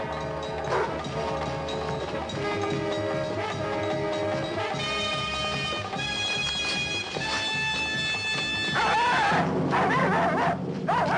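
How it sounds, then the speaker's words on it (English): Dogs barking and whimpering, mixed under a dense, continuous music score with no clear gaps; the animal sounds stay moderate and blend into the orchestral backdrop throughout. "What's the matter with the dogs?"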